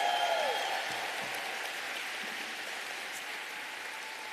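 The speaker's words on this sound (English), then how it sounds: "Let's give him a round of applause." Steady applause from an audience at a political brunch, a broad even patter of clapping that holds throughout at moderate level, with no voices over it.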